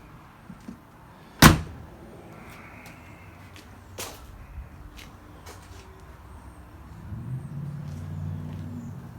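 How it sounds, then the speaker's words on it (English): A 1965 Corvette Stingray's door shuts with one sharp, loud slam near the start, followed by a few faint knocks and low rumbling background noise. "I didn't close that door very good, did I?"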